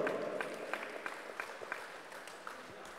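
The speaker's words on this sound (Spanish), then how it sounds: "¡Fuerte los aplausos!" Applause at a basketball tournament award ceremony during a village fiesta in Santa Cruz Tacahua, a crowd clapping steadily at moderate distance for a few seconds with faint murmuring underneath.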